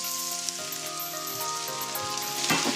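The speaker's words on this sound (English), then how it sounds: "So you can hear it frying." Eggplants and onions frying in hot extra virgin olive oil in a pan, a steady close, dense sizzle with crackling pops throughout and a brief louder burst of spitting near the end.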